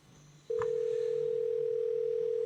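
Phone dialing tone in a Roblox game, a single steady electronic tone that starts abruptly and holds for about two seconds over a faint low hum, with no talking.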